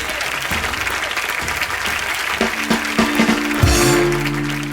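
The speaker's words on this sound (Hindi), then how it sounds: "प्लीज जोरदार तालियों से स्वागत कीजिए" Steady applause from a TV studio audience, clapping continuously for several seconds, with a few louder tones and a brief musical sting near the end.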